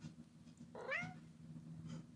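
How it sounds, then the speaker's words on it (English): A single soft video game cat meow rises and falls over a low steady hum, with faint quiet noise afterward. "Meow."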